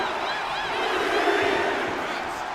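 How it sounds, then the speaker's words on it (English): A roaring arena crowd cheers steadily in the wrestling video game WWE 2K25 during an intergender match, a dense, loud wall of voices that swells slightly midway and holds throughout. "Look at China taking in all the energy from the crowd."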